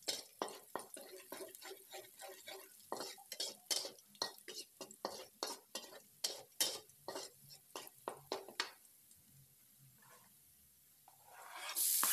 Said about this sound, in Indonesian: kita tumis bawang merah dan bawang putihnya dulu